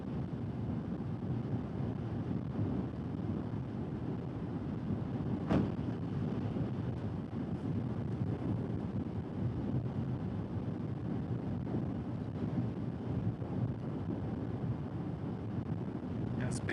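Strong north wind buffets a vehicle driving at highway speed, producing a steady, loud roar and rumble with constant low-end noise and a brief whistle-like burst partway through.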